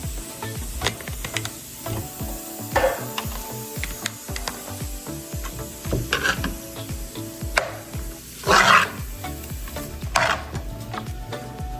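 Butter melting with onions in a pot for broccoli cheddar soup, stirred by hand: a low sizzle runs throughout, with spoon scrapes and clinks against the pot every second or two and a few louder sputters, no talking.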